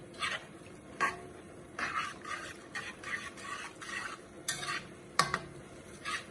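Spoon or utensil stirring starch into boiling liquid for a spring roll filling, scraping around the pot edge in repeated short strokes with faint bubbling and clinks of metal against the pan, close and moderately loud.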